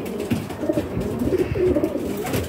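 Pigeons coo softly and repeatedly in a loft, several low burbling calls overlapping close by with faint background rustle.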